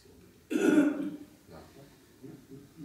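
A single brief throat-clearing cough bursts out close and fairly loud, then fades into a quiet room with faint murmuring in the background.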